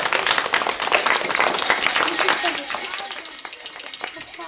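Busy clattering and tapping on hard objects, a dense run of quick knocks and rattles that gradually eases off.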